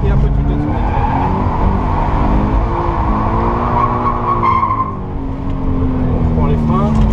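Toyota GT86 on a drift course, its engine roaring steadily while the tires squeal in long wavering wails, loud and close throughout, with an instructor talking over the noise.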